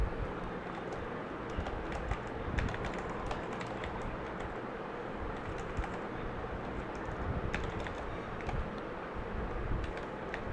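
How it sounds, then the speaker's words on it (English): Quick, light key taps clatter on a computer keyboard while Java code is typed, scattered clicks running throughout over a low room hum. "So let me quickly type the var demo."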